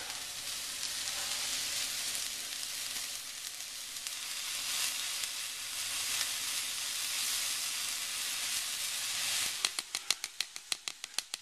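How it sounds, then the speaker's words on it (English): Loud, steady sizzling of pork chops frying in a pan, a continuous hiss that turns into a series of quick clicks and taps near the end. "we just let them go ahead and sizzle for you"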